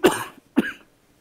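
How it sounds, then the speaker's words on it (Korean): Two sharp, close coughs in quick succession, about half a second apart, then silence. "목이 자꾸 이렇게 기침이 나네."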